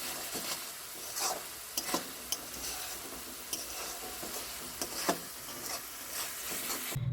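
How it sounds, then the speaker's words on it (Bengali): Yogurt masala for a chitol fish dish is stirred and fried in a pan. A soft, continuous sizzle runs under several sharp scrapes and knocks from the spoon, spaced irregularly and heard close up. "আর একটু তবু কষিয়ে নিচ্ছি"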